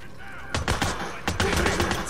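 Sniper and rifle fire from the Days Gone video game rings out as a volley of sharp, loud cracks, a few spaced shots followed by a quicker burst, with no talking.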